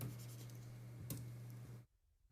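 A pen or pencil writes on paper during a calculus lesson with short scratchy strokes and one sharper tap over a low electrical hum, then stops abruptly into near silence.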